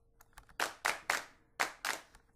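Programmed MIDI claps from two tracks play in a sparse, uneven pattern: a few faint ticks, then five crisp, sharp hand-clap hits in two groups, clean and close with no voices.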